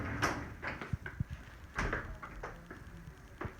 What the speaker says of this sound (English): And again, this pocket door closes.